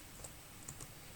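Quiet keystrokes on a computer keyboard, three or four light clicks spaced unevenly over a faint room hiss.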